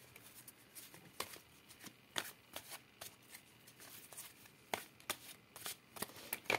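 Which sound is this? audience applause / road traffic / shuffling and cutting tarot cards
shuffling and cutting tarot cards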